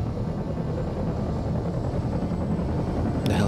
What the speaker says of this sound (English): The helicopter blades sounded like giant choppers in the sky that were flapping above me